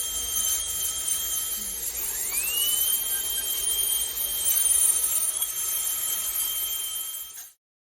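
A dental bone mill grinds extracted teeth into bone graft material, giving a steady high-pitched motorized whine. It rises in pitch after about two seconds, runs continuously, and cuts off sharply near the end.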